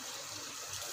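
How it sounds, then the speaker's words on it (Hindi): Water poured into a pan of chicken being fried for chicken with green beans, a steady broadband splashing and sizzling rush that holds evenly at moderate loudness for the whole second, with no talking. "ये देखें हमने इसमें पानी डाल दिया"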